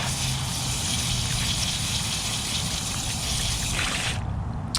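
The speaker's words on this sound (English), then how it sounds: "the water's already starting to run clear-ish" Tap water runs steadily as a small hot pink and golden yellow spiral tie-dyed onesie is rinsed, a continuous loud splashing gush that cuts off near the end.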